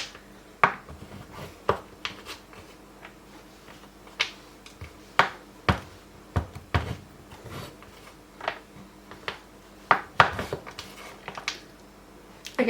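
A knife chops on a wooden board while making brownies, giving irregular sharp knocks, clustered and spaced, close and fairly quiet with little else around.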